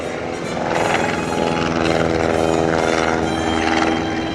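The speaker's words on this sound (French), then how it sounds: "un avion qui était arrivé sur le front en mars 1917, c'est un Royal Aircraft Factory SE5" A Royal Aircraft Factory SE5 World War I biplane flies at an airshow, its piston engine giving a steady, loud droning roar with a buzzing propeller note that swells slightly and holds throughout.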